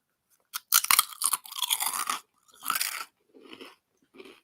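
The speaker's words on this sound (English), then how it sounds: "They didn't like the crunching sound" A crunchy snack is bitten and chewed up close, with sharp loud crunches in quick irregular bursts that fade to softer chews, separated by brief silences.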